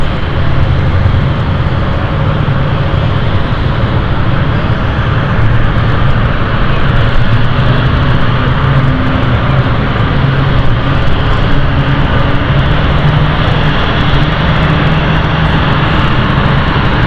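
A fixed-wing airplane coming in to land at London City Airport near Canary Wharf, landing gear lowering, gives a steady, loud engine roar that holds unbroken and alone throughout.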